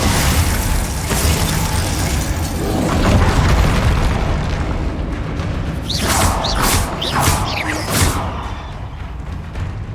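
Confringo fire spells blast in Hogwarts Legacy, with loud booming explosions layered with bursting pops and crackling debris over a busy combat soundscape.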